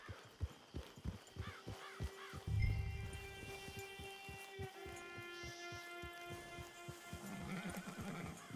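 In the video game Red Dead Redemption 2, a horse snorts and whinnies while its hooves clip-clop in a steady walking rhythm, close by and alone without talk.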